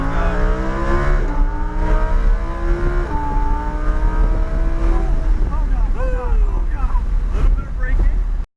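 Lamborghini accelerating on a race track, engine tone climbing through gears under heavy wind noise from inside the car, loud and continuous, with an instructor's voice talking over it.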